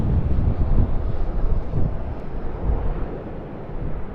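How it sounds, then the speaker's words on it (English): An Airbus A350 heavy jet arrives at Sydney Airport, a distant, rumbling low-pitched roar that swells and eases with gusty wind buffeting the microphone, no speech. "Looking forward to another heavy arrival up next, an Airbus"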